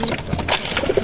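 Pigeons kept in a home loft coo in short low bursts, a few soft calls clustered near the end over a steady background hiss.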